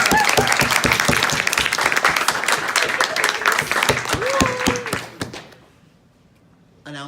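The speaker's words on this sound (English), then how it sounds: "Get your clap in" An audience claps at the close of a talk, a loud burst of many hands that dies away near the end, with voices mixed in and a brief noise just after it fades.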